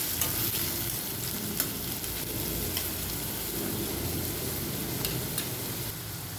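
Curry leaves with onion fry steadily in a pan for a spicy ambadi sukat dry fish dish, a continuous close sizzle with a few sharp spatula clicks scattered through.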